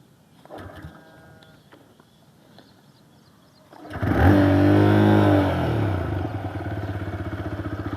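A new motorcycle in neutral is kick-started: faint clunks of the kick lever come first, then the engine catches with a loud, close roar and settles into a steady idle.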